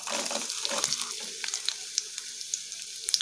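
Cumin, mustard seeds and chopped onion frying in hot oil in a pan, a steady close sizzle with scattered sharp pops and crackles throughout.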